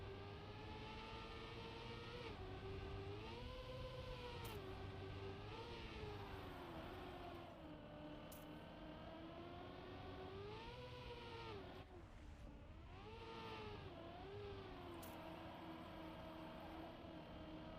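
Car engine in the Trackmania racing game, a continuous high-revving whine that rises and falls with gear shifts and speed changes, loud and steady throughout with no talking.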